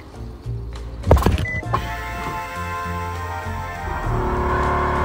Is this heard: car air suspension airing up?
yes